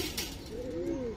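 Pigeons coo at a pigeon market, a soft rolling coo close by over a bed of crowd noise.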